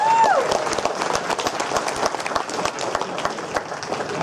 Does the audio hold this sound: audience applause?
yes